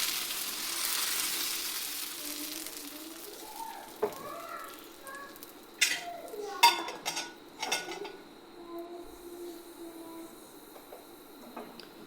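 Vellappam batter cooking in a covered pan, giving a steady soft sizzle with a few sharp clinks and knocks of the lid and utensils partway through.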